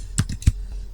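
Keys on a computer keyboard are tapped briefly to type a web address, a few close, crisp clicks with no talking.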